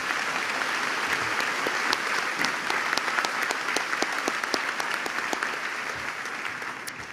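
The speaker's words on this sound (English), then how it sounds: "Please join me in a round of applause for all of these Floyd Central staff members." A large graduation crowd applauds continuously, a dense, even roar of clapping that holds steady for seven seconds with a few sharper individual claps standing out.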